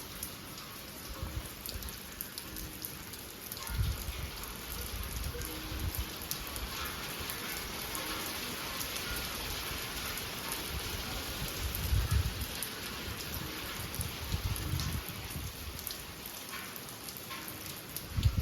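Heavy evening rain falls steadily in a Gujarat village, a constant moderate hiss of drops on surfaces with occasional heavier patters and no voices.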